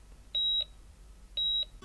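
Two short, identical high electronic beeps, evenly spaced about a second apart, sound clean and alone in a dental surgery game, with near silence around them.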